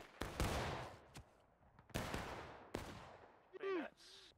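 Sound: musket gunfire in the video game War of Rights

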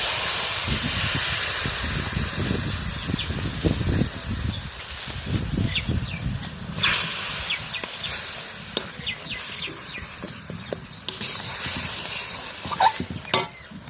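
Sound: water poured into hot pan of cooked masala

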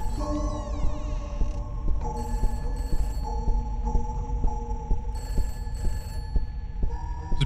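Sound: telephone ringing in a video game

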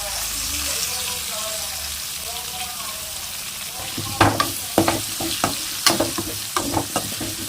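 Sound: mango pieces frying in oil for chicken curry

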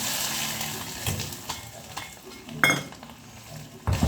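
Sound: chicken chukka frying in oil

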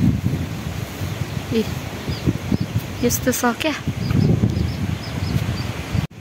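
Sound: wind blowing outdoors

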